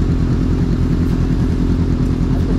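Honda 500F motorcycle engine running steadily nearby, a loud, even low-pitched rumble with a rapid pulsing beat and no talk.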